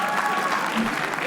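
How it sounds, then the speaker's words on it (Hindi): An audience at a comedy roast show claps, producing a brief, dense burst of applause with some voices mixed in. "तालियां प्लीज"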